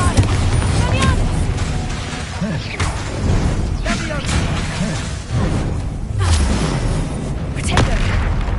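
Explosive spells such as Confringo, Incendio and Bombarda going off in Hogwarts Legacy, a dense run of loud booms and crashing impacts in quick succession over a constant roar of combat noise.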